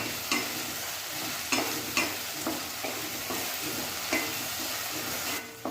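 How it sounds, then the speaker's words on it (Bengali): Fried potatoes being stirred into a spice paste in a pan, a constant oily sizzle broken by repeated scraping strokes of a spatula at an uneven rhythm, close and clear. "মশলার সাথে আলুগুলোকে মিশিয়ে নিচ্ছি।"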